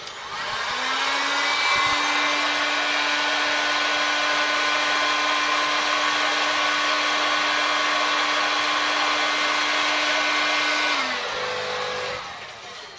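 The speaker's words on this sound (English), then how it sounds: "I'm off camera just plugging in the heat gun" A heat gun for shrinking heat-shrink tubing on the wiring of a Ford Cortina under restoration whirs up, holds a steady loud blowing drone for about ten seconds, then winds down and cuts off.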